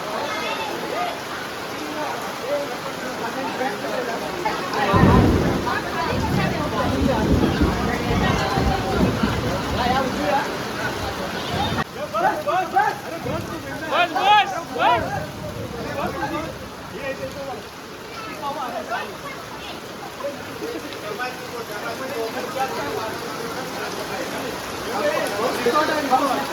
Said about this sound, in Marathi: पूजा थोड्या वेळ थांबवलेली आहे कारण का पाऊस जास्तच वाढलाय